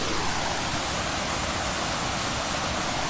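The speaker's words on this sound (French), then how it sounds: "Je vous laisse écouter un petit peu le bruit de la cascade et de l'eau." A waterfall with flowing water, a loud, steady broadband rush that continues unbroken throughout, with no voices.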